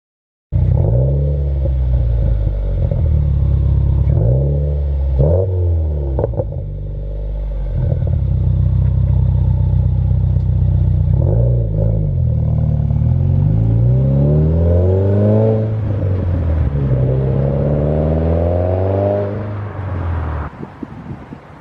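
A Subaru WRX/STI with an axle-back exhaust revs loudly up close, the deep exhaust note climbing and falling over several throttle blips before a longer, rising pull.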